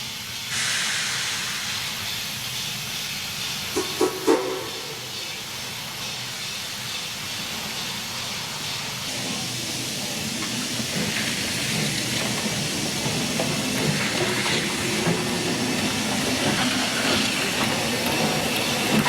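A Eureka Springs Railroad steam locomotive hisses continuously with a loud broadband steam roar, brief metallic clanks partway through as it begins moving, all steady and near with no talk.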